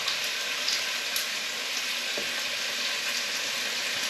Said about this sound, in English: So give me beef a little bit of a stir